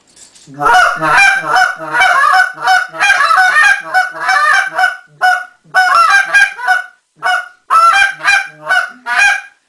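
Rapid, loud honking goose-call notes in choppy bursts, a handheld call mimicking a flock of feeding geese, close and dense with brief pauses.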